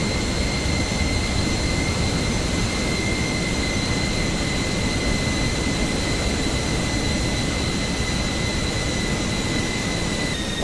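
Steady, loud airliner jet engine roar during engine start in Microsoft Flight Simulator 2024, a high whine holding constant tones, continuous and unchanging throughout, no voices.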